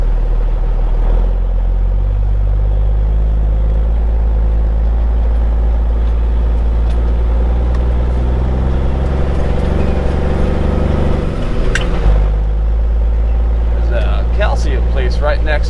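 Heavy truck traffic by a quarry, with a dump truck pulling a hopper trailer: a loud, deep diesel rumble runs continuously, swelling briefly near the end, while a voice talks over it.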